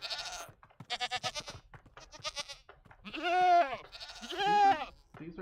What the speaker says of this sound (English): These are actually fairly good goat sounds.